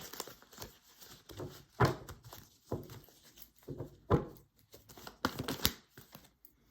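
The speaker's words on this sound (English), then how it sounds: "I'm going to shuffle these" Soft papery riffling and slapping of tarot cards being shuffled in several quick bursts, close by, with quiet pauses between.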